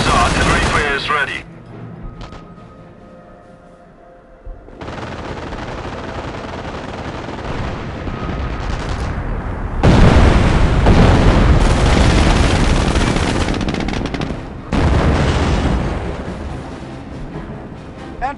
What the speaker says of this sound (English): Bernd, call in artillery fire. Artillery fire is ready.